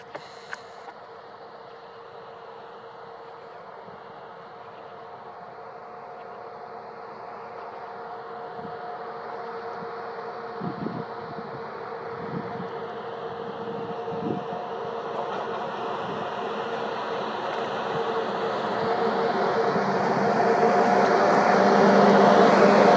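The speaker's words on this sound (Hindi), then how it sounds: "दादर से बीकानेर रणकपुर एक्सप्रेस उदराम सर के गहरे ऊंचे ऊंचे टीलों में से निकलने वाली है इलेक्ट्रिक लोको के साथ।" The Dadar–Bikaner Ranakpur Express, hauled by an electric locomotive, approaches through high sand dunes in the Thar Desert. Its steady rumble and a sustained hum grow gradually louder as it draws near, with faint knocks along the way.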